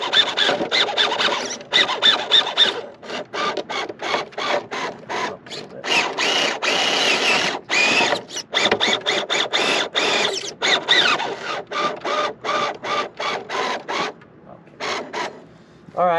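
A small electric RC car motor with a Tuned Machine 45T winding screams at full throttle in rapid stuttering bursts, with the steering servo buzzing as it swings left and right, close and loud throughout.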